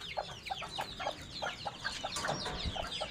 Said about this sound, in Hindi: ये वाली मुर्गी बैठी है जी।